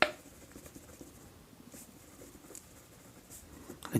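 A pen scratches across paper while a math solution is written out, a soft continuous scribbling with faint irregular strokes and small taps, close and quiet with no talking.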